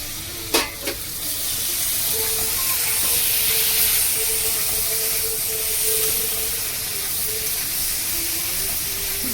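Chopped tomato hitting a hot pan with mushroom, capsicum and potato, giving a steady close hiss and sizzle after a brief clatter near the start, with faint stirring through the rest.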